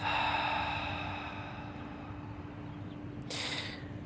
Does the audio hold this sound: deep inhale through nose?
yes